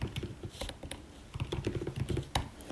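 A computer keyboard clatters with quick, close, irregular keystrokes as a search term is typed in, a busy burst of clicks with no talking.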